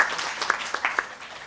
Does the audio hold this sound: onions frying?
no